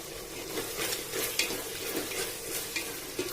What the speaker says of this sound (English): I will saute this till the tomato is totally fried, totally soft, fried well, becomes soft